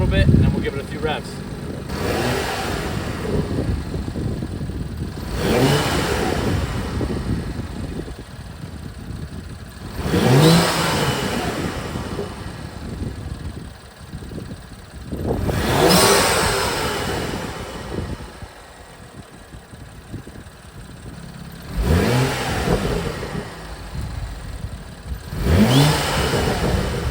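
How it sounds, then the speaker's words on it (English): A BMW F30 N55 engine fitted with a performance intake is revved repeatedly, five distinct throttle blips rising and falling about every five seconds over a steady idle, close and fairly loud. "I'll let it warm up a little bit and then we'll give it a few revs."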